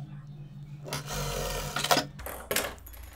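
A sewing machine stitches a fabric face-mask strap in two short, close bursts of whirring motor and rapid needle chatter, separated by brief pauses and handling noise.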